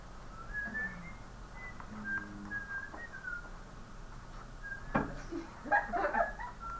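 Faint, wandering whistled melody in a classroom, thin tonal notes drifting up and down over quiet room noise, with brief chuckles and voices toward the end.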